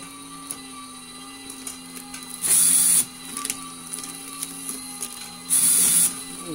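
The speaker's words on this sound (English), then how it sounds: "this is a machine for coffee bags, and all of them have a vacuum valve" Labelling machine applying labels to vacuum-valve coffee bags gives a steady mechanical whir with ticking, and two loud bursts of hissing air, each lasting about half a second, stand out at even intervals.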